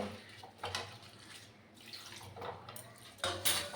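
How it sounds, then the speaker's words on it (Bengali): Flattened rice (chira) rinsed in a bowl of water, with soft sloshing and splashing in a few uneven bursts at close range, quiet overall with short pauses between. "জল পাল্টে পাল্টে তারপর আমি ধুয়ে নিচ্ছি"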